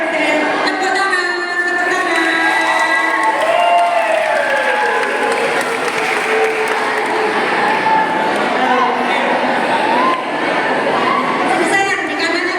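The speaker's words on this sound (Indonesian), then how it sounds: "Yuk. Tepuk tangan." Students clapping together at a school event, a steady continuous patter of applause running throughout, close and fairly loud, with children's voices and chatter mixed in beneath.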